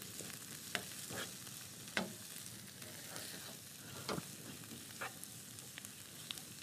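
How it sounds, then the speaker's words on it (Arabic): Spinach with onion and parsley stirred in a pan for a Moroccan spinach gratin, a soft continuous sizzle broken by irregular scraping strokes of the spoon, close and fairly quiet, with no voices. "غادي نحركو لي زيبينار مع البصله ومع المعدنوس"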